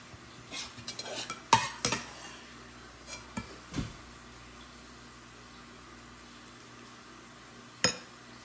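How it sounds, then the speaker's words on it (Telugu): Ridge gourd and tomato curry being spooned into a serving bowl, with a few scattered metal spoon-on-pot scrapes and clinks, a couple of louder knocks, then quiet stretches and one final clink, no talking. "ఇప్పుడు బీరకాయ టమాటో కూర సర్వింగ్ బౌల్లో తీస్తున్నా"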